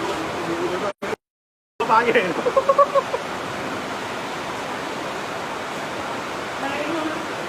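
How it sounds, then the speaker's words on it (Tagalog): Heavy rain pouring during waterspouts over Laguna Lake, a loud, dense steady hiss throughout, briefly cut out near the start, with people talking over it. "Nasabayan pa ng malakas na ulan."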